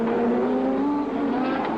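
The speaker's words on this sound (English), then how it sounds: "It almost looked like he had to spin to avoid hitting the other car, Ken." A 1983 Formula 1 car at the Detroit Grand Prix street circuit screams past at high revs, a sustained engine whine rising slightly in pitch over about two seconds.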